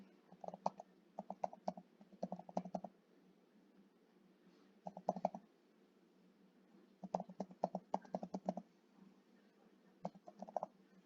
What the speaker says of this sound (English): So I'll type it here again.